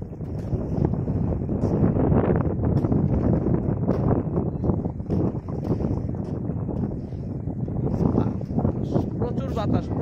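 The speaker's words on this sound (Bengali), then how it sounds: "প্রচুর বাতাস, প্রচুর বাতাসটা এখানে প্রচুর প্রচুর বাতাস।" Strong wind gusts at Soloani riverside beach buffet the microphone in a constant rough roar, with someone talking over it the whole time.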